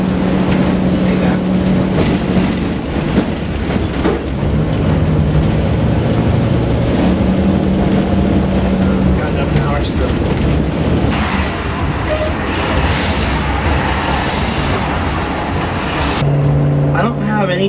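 Motorhome engine labouring up a hill after stalling problems, a loud continuous low drone with shifting engine tones that holds steady throughout, with talk over it.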